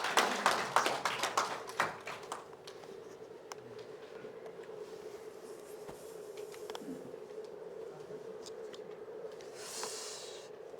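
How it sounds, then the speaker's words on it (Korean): Audience applause at a forum welcoming a speaker, a short burst of clapping at the start that fades into quiet room noise with scattered taps and rustles. "박수로 환영해 주세요."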